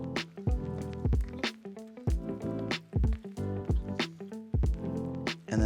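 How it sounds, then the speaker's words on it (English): Homemade mashed potatoes being stirred with a utensil, giving close, wet squishing sounds in repeated strokes, loud and alone without talk. "give it a nice stir, just like this."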